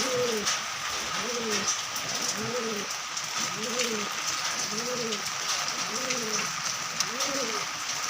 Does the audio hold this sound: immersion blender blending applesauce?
no